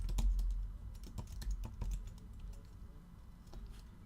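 Fingers type information into a computer keyboard, a quick irregular run of close, crisp key clicks that slows toward the end, with no voices.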